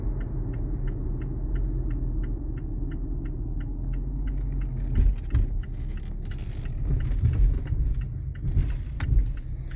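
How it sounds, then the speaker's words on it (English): A car turns into a residential neighborhood near a construction site, its engine and road rumble steady inside the cabin while a turn signal ticks rhythmically, then tire and suspension noise grows louder over uneven pavement. "So I'm going to pull into the neighborhood and we'll take a spin around the construction."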